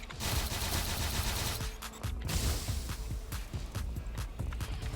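An enemy armed with a gun fires in the shooting game Black Stigma, delivering rapid, repeated bursts of gunfire that keep going throughout amid dense, noisy action sounds.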